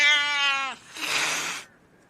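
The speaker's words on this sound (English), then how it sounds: "The cat spat again." A cat hisses and spits in two short, loud bursts, the first a strained, harmonic yowl and the second a breathy, noisy spit, close up and alone.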